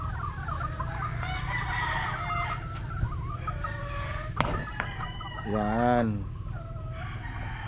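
Gamefowl chickens clucking near the microphone, including a gray straight-combed hen, with scattered clucks and a drawn-out crow-like call near the end over a low background hum, while someone talks briefly.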